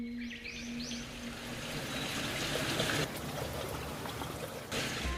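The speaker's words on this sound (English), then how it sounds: "we also stopped at a waterfall" Steady rushing water from a waterfall in the Irish countryside, a continuous broad wash of falling water heard from fairly close, with no voices.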